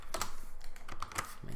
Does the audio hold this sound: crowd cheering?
no